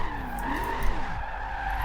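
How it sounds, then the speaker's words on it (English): Tires screech in a sustained skid as a car drifts in Assetto Corsa, a steady squealing whine with swooping pitch over engine drone, loud and continuous throughout. "to just drift around with the wheel on this game"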